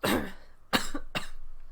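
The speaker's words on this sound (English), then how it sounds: "I still cough every so often" Three dry coughs from one person, a strong first cough followed by two shorter ones spaced about half a second apart, close and clear.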